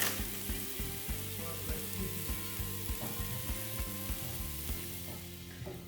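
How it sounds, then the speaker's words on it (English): A basting mixture of garlic, dried rosemary and dried laurel sizzles steadily in a pan, a close, dense crackle with a faint regular ticking through it and no talking. "after you cook the basting mixture here"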